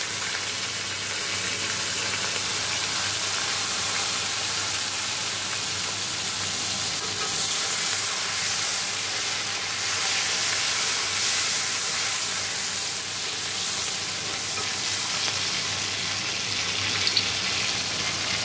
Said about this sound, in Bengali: এখানে জিরে শুকনো লঙ্কা ফোড়ন দিয়েছি, টমেটো লঙ্কাটা দিয়ে দেবো